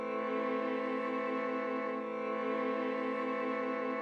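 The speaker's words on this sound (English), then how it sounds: "I have this other violin layer as well and it sounds like this." A second sustained violin layer for a beat, held string chords with a faint pulsing texture, moderately quiet, steady and unaccompanied by voices.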